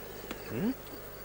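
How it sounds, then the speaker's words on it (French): Honey bees buzz softly as a frame is lifted from the edge of a hive, a few brief rising and falling drones over steady low background noise. "je commence d'enlever le cadre du bord, de la rive, où il y a des abeilles."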